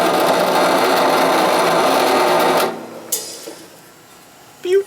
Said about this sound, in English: she's not putting a lot of pressure on the drill press arm